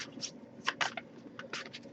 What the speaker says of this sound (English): if I shuffle for a while without any coming up